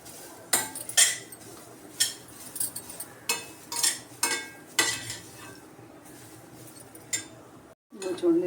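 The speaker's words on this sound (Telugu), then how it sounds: "ఇలా బాగా వేయించుకోవాలి" Grated carrots frying for carrot halwa, with repeated sharp clanks and scrapes of a metal spoon stirring in the pan, roughly a dozen irregular strokes over a soft sizzle, with brief talk.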